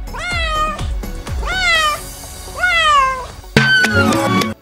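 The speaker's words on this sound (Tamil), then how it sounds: "பூனை கத்தும்." Several loud, drawn-out cat meows, one after another, followed by a harsher, noisier yowl at the end.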